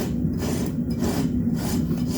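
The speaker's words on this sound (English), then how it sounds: "So with a very upright rasp stroke" Farrier's rasp filing a horse's hoof with upright strokes to meet the bevel while shoeing, a steady close rasping scrape in repeated strokes roughly every half second, with no talk.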